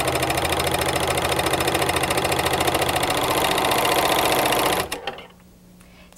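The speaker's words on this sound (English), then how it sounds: "lower our presser foot and serge" A Speedylock 299 serger trims and stitches a seam in medium-weight woven fabric with a loud, steady, rapid chatter for several seconds, then stops abruptly, leaving near silence.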